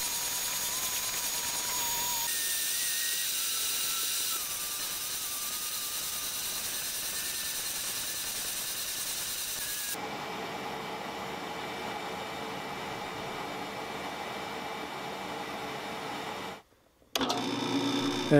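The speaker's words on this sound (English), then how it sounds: "I shaped it on the oscillating spindle sander." Oscillating spindle sander shaping wood for an OM acoustic guitar, a steady mechanical whir with shifting tone, a brief drop near the end, no speech.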